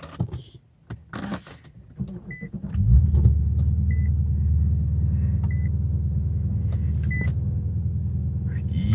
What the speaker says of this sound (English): Let's just start the car.